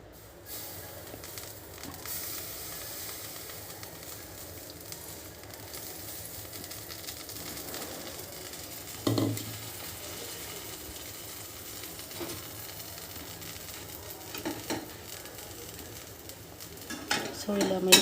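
Milk being added little by little to bread toasting in a pan with ghee or butter, heard as a quiet, low sizzle with soft scraping and a couple of sharper clinks of a utensil against the pan.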